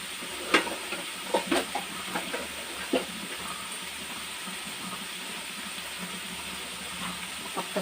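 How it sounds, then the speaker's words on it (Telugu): A dish simmers in a pan on the stove, giving a steady sizzling hiss with soft bubbling and a few brief clinks or stirring knocks early on, close and continuous with no talking. "కొద్దిసేపు ఉడకనిద్దాం"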